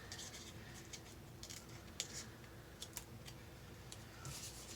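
Scissors snip wiggly lines into paper in a series of short, soft cuts with irregular pauses, close by and quiet over a faint hiss.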